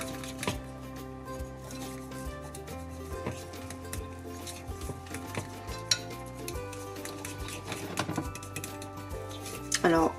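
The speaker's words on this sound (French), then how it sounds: "on remue de façon à vraiment incorporer tout le chocolat en poudre" Cocoa powder being stirred into a homemade chocolate spread mixture in a bowl, soft scraping and utensil clinks against the container, with music playing steadily underneath throughout.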